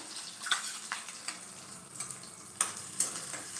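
Onion fries in oil with a steady sizzle in a pan while a utensil stirs and scrapes a few times, the sharp clinks standing out over the frying.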